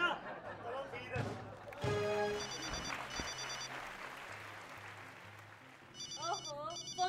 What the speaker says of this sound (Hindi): ओहो, फोन की घंटी बज गई।